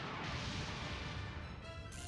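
Hyper Bazooka attack striking in the video game Super Robot Wars 3: a dense, loud crashing explosion with rumbling impact noise sustained across the whole moment, alone without talk.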